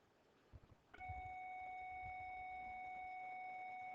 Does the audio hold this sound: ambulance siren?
no